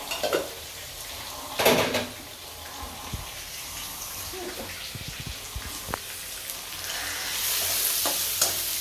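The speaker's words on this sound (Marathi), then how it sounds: "कांदा परतून घेते मी" Chopped onion sautéing in a pan, a quiet continuous sizzle with scattered scrapes and clinks of a spoon stirring, rising slightly louder toward the end.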